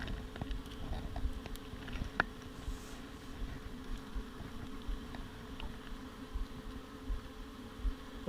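Honeybees hum low and steadily inside an open honey beehive, a soft, continuous buzz with scattered faint ticks and bumps and no voices.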